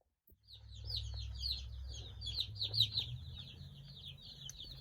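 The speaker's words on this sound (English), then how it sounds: "All the little baby chickies." Baby meat chicks in a brooder room, a dense run of high, rapid peeping calls, many birds chirping together continuously over a low background hum.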